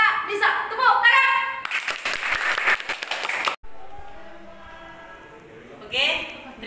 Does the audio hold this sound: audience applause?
yes